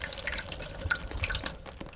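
Water runs and splashes in the Roblox video game, a continuous busy patter of drips and trickles at moderate loudness, with no talking.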